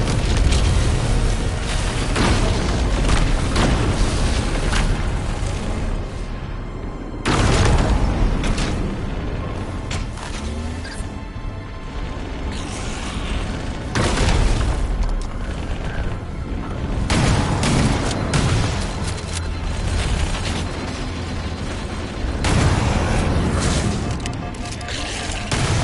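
Power conduits exploding at a pulse generator in the Halo campaign, with loud booming blasts and dense, continuous game combat noise throughout, in several heavy bursts.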